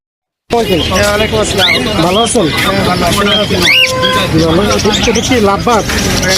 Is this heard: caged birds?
yes